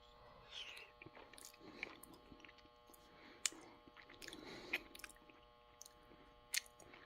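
Quiet close-up chewing of a lentil stew from a humanitarian daily ration, soft wet mouth sounds and occasional clicks, faint and intimate with no talking.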